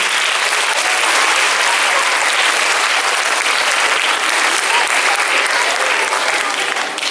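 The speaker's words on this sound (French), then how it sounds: "On peut les applaudir dès maintenant pour les encourager." Sustained, dense applause from an audience at a students' science congress at the Cité des Sciences in Paris, loud and steady for the whole stretch with no talk over it.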